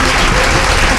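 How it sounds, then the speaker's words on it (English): A live audience at a festival talk claps loudly and densely for guests Rob Roth and Debbie Harry, a continuous close wash of applause. "a great round of applause for our guests here today, for Rob Roth and Debbie Harry"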